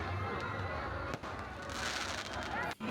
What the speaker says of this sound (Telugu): ఆకాశ దీపాలు వదులుతున్నారు, టపాసులు కాలుస్తున్నారు